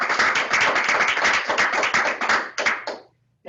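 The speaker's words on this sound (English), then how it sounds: "Another round of applause," Applause for award winners at a graduation ceremony: a small crowd's close, brisk hand clapping, dense for most of the stretch before thinning to a few last claps and stopping.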